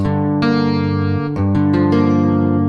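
Effected electric guitar chords with a seventh color, sustained strums followed by quick rhythmic re-strikes, processed with slight distortion and shimmer.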